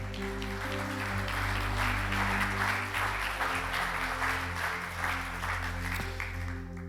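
Morning church congregation clapping and cheering at a Sunday service, sustained applause from many people over soft held keyboard chords, fairly even in loudness before tapering slightly at the end.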